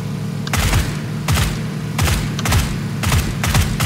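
Gunfire in the PUBG battle royale game comes as repeated rapid bursts, loud and close, about six short rattling volleys of automatic shots at a steady rhythm with brief gaps between them.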